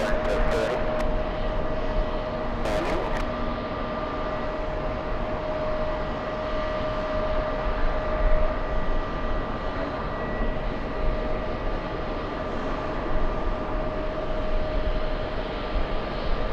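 Steady, fairly distant roar of airplanes arriving at JFK airport, a continuous broadband jet rumble with a faint whine, holding at an even level for the whole stretch with a couple of brief clicks near the start.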